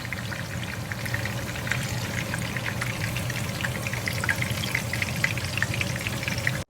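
Steady oil frying and crackling of tofu blocks browned on both sides in a pan, continuous close sizzle with fine popping throughout, no talk.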